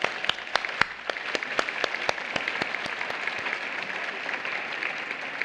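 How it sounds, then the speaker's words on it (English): Audience applause at a university graduation recognition ceremony, a dense steady wash of clapping with sharp individual claps standing out, sustained at an even level throughout. "Please join me in applauding the faculty."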